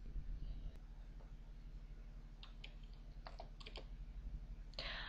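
Soft, quick keyboard taps enter a command in the Aardwolf text-based MUD, with a few short clusters of clicks and a brief rattle over a steady low electrical hum.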